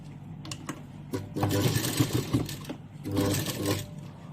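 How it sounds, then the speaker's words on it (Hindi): A sewing machine stitches a mirror-work blouse along marked lines, running in two quick rattling bursts of rapid needle clatter with a short pause between them, close and moderately loud. "अब हम देखिए हमने जो मार्किंग की है इस पर सिलाई करेंगे"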